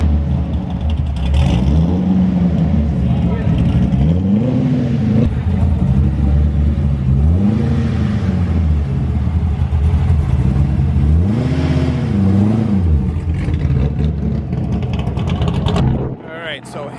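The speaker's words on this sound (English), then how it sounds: "Harry is up on the dyno, starting it up" A Corvette C6 Z06 V8 runs on a dyno, its engine revving up and down in repeated rising and falling sweeps, loud and close, then cutting off sharply near the end.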